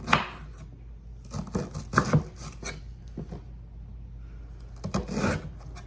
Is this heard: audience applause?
no